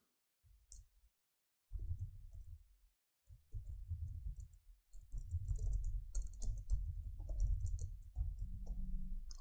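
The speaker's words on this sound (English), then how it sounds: "So let's type the text first." Typing on a computer keyboard comes in quiet bursts of close clicks with short pauses between, soft and steady, no voices.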